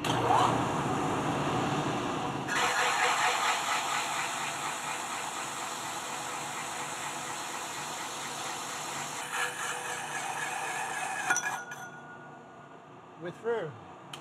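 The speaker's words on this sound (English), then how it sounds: "first we'll use the hole saw" In a machine shop working on Tiger Cub engine parts, a hole saw cuts through metal with a steady, loud grinding whir that runs for about eleven seconds and then stops, leaving a few faint clicks and knocks.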